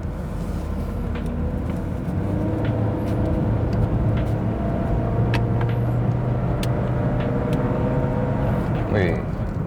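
A Honda Brio with a CVT automatic transmission climbs a hill on a test drive, its engine droning steadily inside the cabin with a rising tonal whine, while someone talks over the sound.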